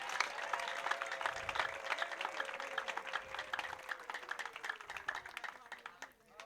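A church congregation clapping in a steady rhythm together, many hands beating fast repeated claps while a sung or spoken voice runs underneath, tapering off at the end.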